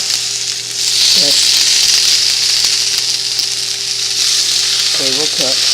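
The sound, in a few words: asparagus sizzling in a pan indoors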